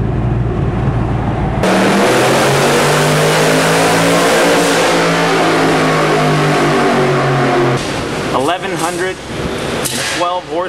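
A Shelby Mustang prototype with a 1,112-horsepower boosted Nelson Racing engine pulls hard with a loud, rising roar, then drops off as it is short-shifted into fifth gear, while people talk over it.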